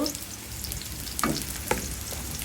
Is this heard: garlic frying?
yes